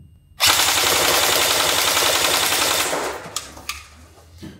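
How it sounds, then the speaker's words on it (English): A Delta Armory R15 Freya airsoft-style rifle fires a long full-auto burst, a dense rapid rattle lasting over two seconds, then stops, leaving a few clicks and handling noises. "And full auto."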